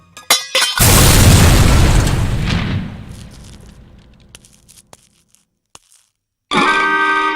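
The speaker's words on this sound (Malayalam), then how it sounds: "അയ്യോ, ബോംബ്." A bomb explodes in a Malayalam comedy film scene: a sharp burst, then a loud roaring blast that slowly fades over several seconds, a few faint clicks and silence, and finally a new loud noisy sound at the end.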